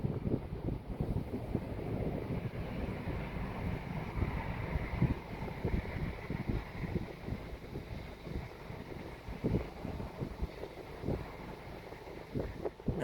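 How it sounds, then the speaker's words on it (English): Gusting wind buffets the microphone outdoors with steady broadband rushing and rumble throughout, fairly loud and close, as a storm builds. "Wind is picking up though, that's for sure."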